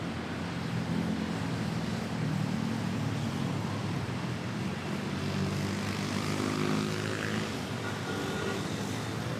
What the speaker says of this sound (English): And here is PR113 from LAX, making its way to Terminal 1